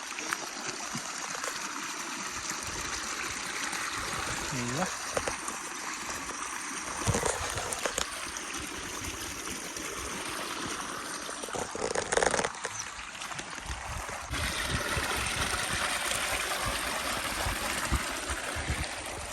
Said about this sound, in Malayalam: അവിടെ എന്തൊരു വെള്ളച്ചാട്ടം.